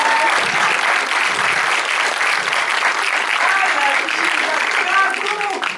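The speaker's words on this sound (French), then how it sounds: "Applaudissez." A cinema audience at a special film screening claps loudly and continuously, dense and sustained applause filling the room with a little crowd murmur mixed in.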